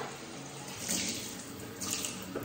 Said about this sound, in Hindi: तो यस, ऐसे नल खोला